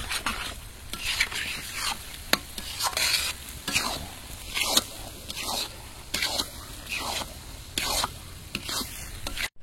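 Spices sizzle in hot oil while a utensil scrapes and stirs them in a rhythmic series of strokes, close and steady.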